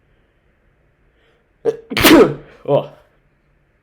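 One sharp, loud sneeze erupts out of near silence, preceded by a short intake of breath and followed by a brief spoken exclamation.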